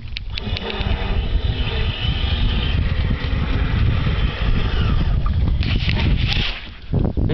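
A small RC boat motor whines steadily on a lake with broadband water and wind noise outdoors, continuous and fairly loud, dipping briefly near the end.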